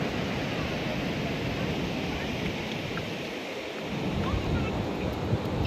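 Sea waves break on the shore at Ganpatipule during light rain, making a steady, broad, even wash of surf and rain noise with no distinct breaks.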